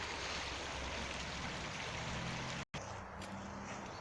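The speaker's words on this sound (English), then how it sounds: "River going into the big creek, going into the bigger river here." A small river flows into a larger creek, a steady rushing water wash with constant broadband noise, briefly cut off, then continuing slightly softer.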